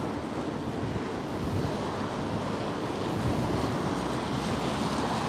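Strong wind buffets the microphone on the Blackpool seafront, a steady loud roar with surf-like rushing throughout and no voices.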